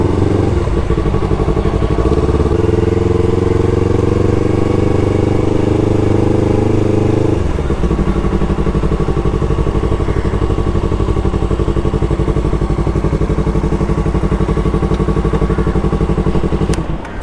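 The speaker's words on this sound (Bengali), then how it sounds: "দেড় বছর ধরে বাইকটা পড়ে আছে" A Yamaha R25 motorcycle left standing for a year and a half runs loud and close, engine idling with a pitch shift early on and a steady throbbing hum throughout.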